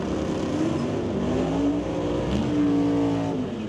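A 2022 Ford Mustang and a Fox body Mustang roar loudly at an NHRA drag strip, their engines revving and rising in pitch as they accelerate, with overlapping engine tones and no talk.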